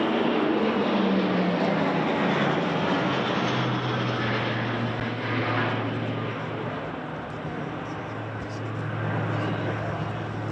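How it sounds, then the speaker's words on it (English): A Boeing Poseidon MRA-1 maritime patrol aircraft passes overhead in a loud, steady engine roar with a falling drone as it flies by, filling the whole stretch with no talk. "now a Poseidon from RAF Lossiemouth, all the way down from Scotland, the Boeing Poseidon MRA-1, maritime patrol aircraft"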